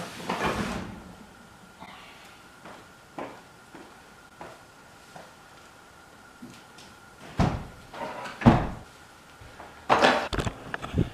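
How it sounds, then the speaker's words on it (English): A wooden floor hatch door in a house is opened, giving a series of scattered knocks, creaks and thuds of varying loudness, with quiet gaps between them and no talking. "Yes, the good old door in the floor."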